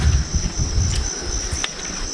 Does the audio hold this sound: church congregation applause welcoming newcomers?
no